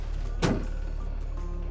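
A single dull thunk from the hood closing on an old Ford F100 junkyard truck, heard once at moderate distance over a low steady background rumble.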